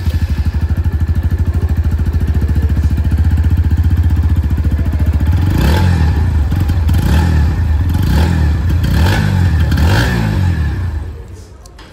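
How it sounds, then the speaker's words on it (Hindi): A 125cc motorcycle idles with an under-belly exhaust, a loud close steady thumping putter, then is revved several times in quick bursts before dropping away near the end, with no talk. "इसकी जो एग्जॉस्ट साउंड है वो भी मैं आप लोगों को सुना दूँ"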